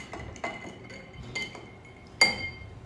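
Ice clinks lightly against a glass as a yuzu cocktail is gently stirred. Four or five soft, bright taps come at uneven intervals, and the last one rings a little louder.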